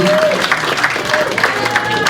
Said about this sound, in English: a special round of applause for everybody in the purple shirts who are making tonight happen